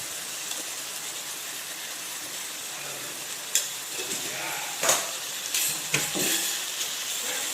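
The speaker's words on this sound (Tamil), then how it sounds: "அந்த சிக்கனோட அந்த மசாலாலாம் சாடுற அளவு நல்லா வதங்க விட்டுக்கலாம்" Chicken with masala sautés in a pan for a home chicken curry, giving a steady broadband sizzle with a few sharper scrapes and stirs near the middle and end, with no talking.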